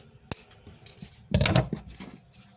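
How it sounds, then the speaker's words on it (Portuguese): Scissors cut through folded ribbon up close: a sharp single snip, then a longer rasping cut with a few quieter clicks after, in a quiet room with no talking. "Dobro no meio e corto."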